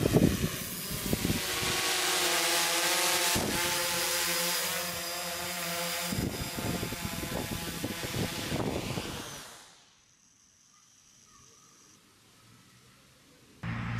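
A multirotor drone whines loudly and steadily as it flies in to land in gusty wind, its buzzing rotor tone wavering before cutting out abruptly near the end, leaving faint background noise.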